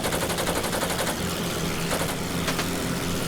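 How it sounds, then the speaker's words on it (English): Rapid machine gun fire from an enemy gunner in the World War I air combat game Wings Over Flanders Fields, a steady dense rattle over a constant engine drone, with a couple of sharper bursts standing out near the end. "Yeah, he's shooting at me now."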